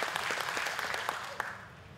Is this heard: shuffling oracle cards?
no